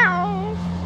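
A cat gives a single clear meow that trails off, close and fairly loud, over a steady low electrical hum, with no talking.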